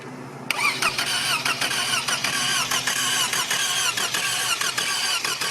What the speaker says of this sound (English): So this job will require a second person to try to start the car while you read the meter